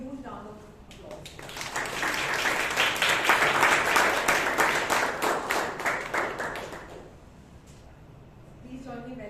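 At a Toastmasters club meeting in Bangalore, an audience bursts into applause that swells to a dense, loud clatter of clapping for several seconds, then fades, with talk before and after.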